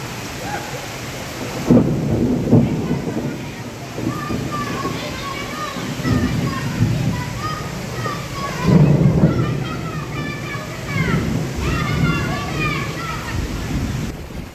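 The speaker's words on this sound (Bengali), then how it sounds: "অনেক বাজ পড়তেছে" An afternoon thunderstorm brings steady rain and rolling thunder, with two loud low rumbles standing out over the constant downpour while voices talk in the background.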